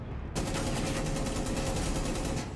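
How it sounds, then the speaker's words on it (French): Rapid video game gunfire sustained as a dense, continuous burst from a firefight, beginning abruptly after a brief quiet moment and staying loud throughout. "Ça tire euh, à tes pieds, Silver."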